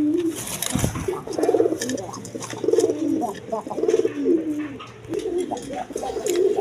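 Several pigeons coo nearby in clear, rhythmic bursts of rolling throaty calls repeated every second or so, with a low steady hum and some handling bumps.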